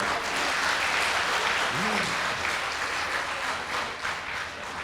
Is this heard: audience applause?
yes